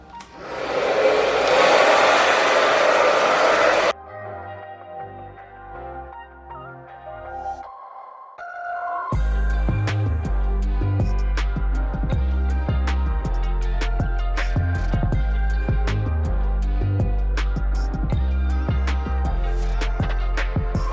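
A hair dryer blows loudly and steadily for a few seconds while hair is dried, then cuts off, followed by quieter tones and loud rhythmic music.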